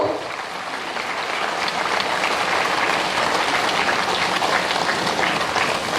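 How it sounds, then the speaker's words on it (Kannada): A large audience applauds at an event, the clapping swelling after a quieter start and holding as a dense, steady roar of hands. "ಇದರ ಹಿಂದೆ ಇರುವಂತಹ ಶ್ರಮಕ್ಕೆ ನಿಮ್ಮ ಚಪ್ಪಾಳೆ ಒಂದು"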